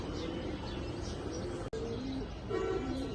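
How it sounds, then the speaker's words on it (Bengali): A male pigeon of a silver-coloured fancy breed coos in soft, low, repeated phrases that are close and fairly quiet, with light chirps and general background noise around it. "এটা হচ্ছে নর কবুতরটা"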